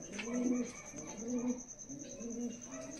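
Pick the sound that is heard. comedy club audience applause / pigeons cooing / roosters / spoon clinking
pigeons cooing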